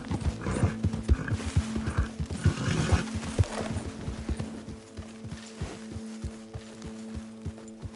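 A horse gallops in Red Dead Redemption 2 with rapid rhythmic hoofbeats and a neigh, loud and close against game ambience.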